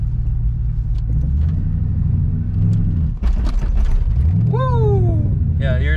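A 2004 Mustang GT Bullitt with a manual gearbox pulls away in first gear, its engine rumbling low and then rising in a rough revving climb. A voice is briefly audible near the end.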